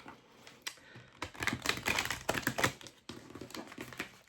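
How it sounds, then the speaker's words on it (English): A deck of tarot cards is shuffled by hand, giving crisp riffling clicks and taps in short bursts, close and fairly quiet, with brief pauses between runs. "I did pre-shuffle this deck, but I'm just giving it one more shuffle."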